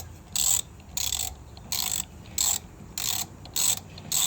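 Ratchet on an 8mm socket tightens a hose clamp on a Honda GX270 engine, a close, steady run of seven short clicking bursts, each about a quarter second long with brief pauses between, alone with no talk.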